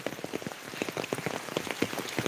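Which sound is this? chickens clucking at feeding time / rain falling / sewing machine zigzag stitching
rain falling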